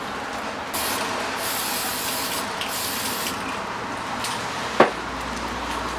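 A steady hiss of light gray surface primer from an aerosol can runs for several seconds onto a model kit part, close and fairly quiet, with a sharp click partway through and no talking.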